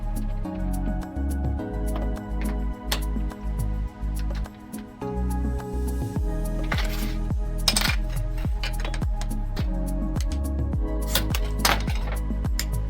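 Fused glass strips are cut to length with a series of sharp, close clinks and taps, irregular glassy ticks and brief rings scattered over a low hum, with a few louder cracks.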